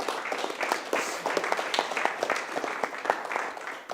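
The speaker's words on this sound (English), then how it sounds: "And so also a big applause there" A small audience at a studio talk event claps in appreciation, scattered individual claps forming loose, uneven applause that continues for a few seconds before fading.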